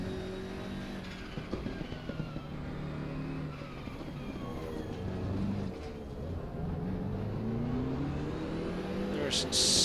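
Race cars crowd the start of a race in the video game Assetto Corsa Competizione, their engines droning and rising together at moderate loudness for the whole stretch, joined by a brief higher whine near the end.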